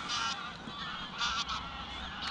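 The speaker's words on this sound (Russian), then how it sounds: "Гуси-гуси летят косяками." Geese flying in flocks honk repeatedly in scattered calls over a steady background hiss, moderately distant, with no talking.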